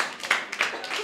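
An audience at a children's murga performance claps in a short, uneven burst of applause, with a voice speaking over it.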